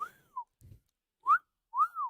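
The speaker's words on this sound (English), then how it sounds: "There's the whistle." A bright human whistle sounds in short separate phrases, a few rising and falling notes with gaps between them, close and clear in an otherwise quiet space.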